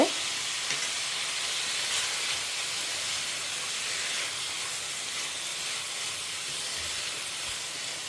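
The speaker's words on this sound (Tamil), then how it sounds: "இப்போ லேசாக வதங்க ஆரம்பிச்சிருக்கு" Vegetables sauté in a hot pan with steady, close sizzling and hissing that holds evenly throughout, with no talking.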